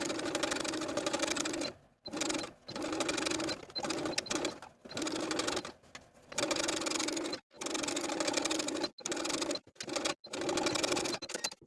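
A sewing machine top stitches a bodice neckline in steady whirring runs, stopping and restarting about a dozen times with brief silent gaps, close and clear.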